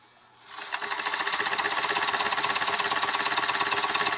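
A sewing machine runs steadily to wind thread onto a bobbin, starting after a brief quiet moment and then whirring continuously with a fast, even mechanical rattle, close and fairly loud.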